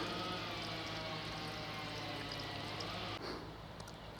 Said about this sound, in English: Lovely babbling brook on my right